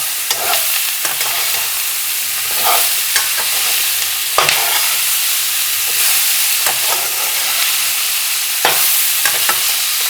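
Sliced onions fry in a pan for a spicy okra and onion dish, a loud steady sizzle broken by repeated scraping stirs at irregular intervals, close up with no speech.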